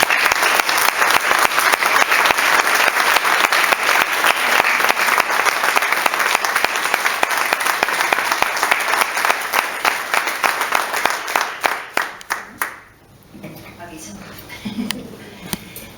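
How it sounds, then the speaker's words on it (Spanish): Loud, dense audience applause at a Spanish-language book presentation, sustained for about twelve seconds before tapering off into a quiet room with faint stray sounds. "yo le quiero decir un gran aplauso a esta gran mujer"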